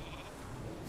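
A sheep polymorph spell goes off in a player-versus-player video game battle, giving a brief bleating sheep cry within busy, dense game noise.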